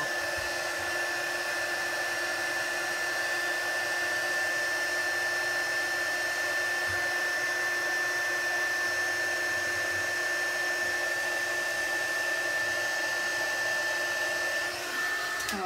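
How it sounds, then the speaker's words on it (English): A heat gun blows a steady, even whooshing hum while melting embossing powder on a stamped card, continuous and close with no talking over it. "we're just moving the heat gun over the image like so"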